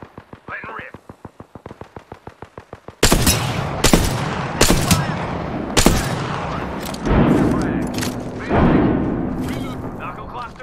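Gunfire in Apex Legends while playing Seer: a rapid string of regular shots gives way to loud, heavy bursts and booming blasts, close and dense, with in-game voice lines over the action.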